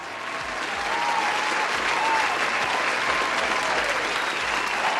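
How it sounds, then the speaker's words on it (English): An audience claps steadily and fairly loudly throughout, a dense continuous wash of applause with no talk over it. "hold the applause"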